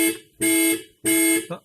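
Siren from a Tata Tiago sounding as the lock and unlock buttons are pressed together: two steady, loud electronic tones about half a second each, separated by a short gap, heard alone.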